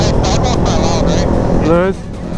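A 2020 Honda Grom motorcycle engine revs hard and steady near the top of a gear, a loud continuous drone that climbs in pitch and then drops off, with a voice talking over it.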